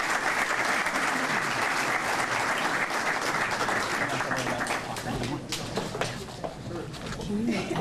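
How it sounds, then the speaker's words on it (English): Warm, continuous audience applause at a community welcoming event, dense and steady for several seconds with a slight dip midway, a voice faintly audible underneath. "If we can give another round of applause to Cecile, Rosa Maria, and Kamana"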